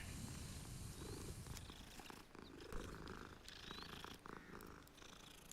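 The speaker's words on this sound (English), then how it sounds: "There's a cat." A cat purring in a wizard video game, a steady close rumbling purr running throughout with faint game ambience behind it.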